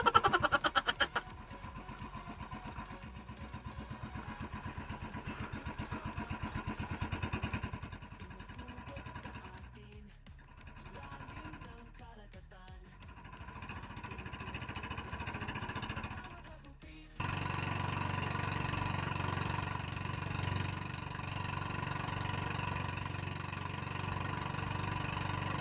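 A boat motor on a spearfishing trip to an island in the Philippines runs at low speed, a steady mid-pitched engine drone that dips, stutters briefly, then settles into a louder, even hum. No talking is heard.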